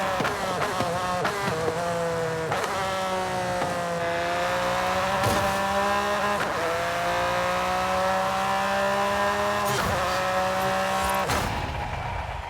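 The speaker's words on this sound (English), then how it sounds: "it topped out at 183 mph in 6th gear on the main straights, which you can hear" A Ford GT races in Forza Horizon 5, its engine straining at a high, sustained whine near its 183 mph top speed in sixth gear. The pitch climbs and levels over several steady stretches, loud and close, with brief shift breaks.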